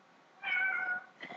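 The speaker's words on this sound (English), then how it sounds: "Now the cat's just come in." A cat gives a clear, drawn-out meow close by, followed a moment later by a shorter, softer meow, in an otherwise quiet room.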